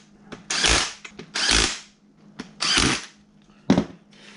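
A cordless power drill drives screws back into a Triton 3 1/4 router during a plunge shaft replacement, running in four short whirring bursts with pauses between, close and loud, with no talk.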